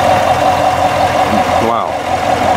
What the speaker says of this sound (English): That's the engine. That's what makes this big boy go.